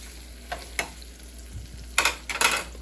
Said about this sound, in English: So let's try crisping up the Spam.